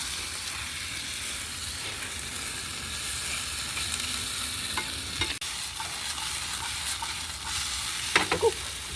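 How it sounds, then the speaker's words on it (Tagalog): Batter for chicken with raw bananas is stirred in a hot pan in a small home kitchen, giving a continuous sizzle and frying hiss with soft scraping strokes and a couple of sharper clinks near the end, no talking. "Haluin ang haluin hanggang sa malunag."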